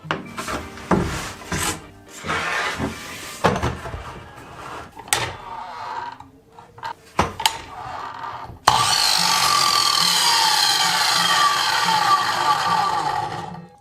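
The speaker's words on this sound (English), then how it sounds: "the mitre saw will take care of that for me" A mitre saw cuts through pine skirting board, its motor whining loudly and steadily for several seconds after a series of sharp knocks and handling clatter.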